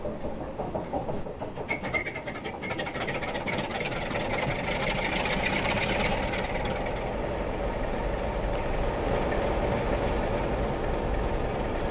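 A Romanian 60 DA diesel locomotive starts up in the Train Simulator game, settling into a steady, loud, close engine rumble with a rhythmic knock that holds without a break, with no talking.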